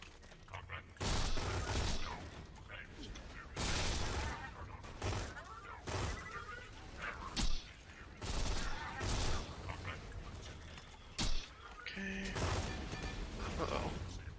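Gunfire in Borderlands 2 comes in loud, dense volleys lasting a second or two, broken by short pauses and a few sharp single blasts.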